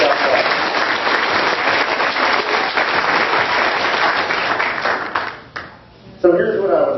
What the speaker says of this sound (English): So a big round of applause once again to Janie Rapini.